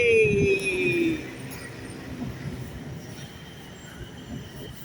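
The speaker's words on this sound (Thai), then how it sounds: "รถไฟฟ้า BTS อ่ะ" A BTS Skytrain passes on the elevated line near MBK Center at the Phaya Thai intersection in Bangkok with a high whirring whine that slides down in pitch, then fades into a steady rumble of traffic and city noise.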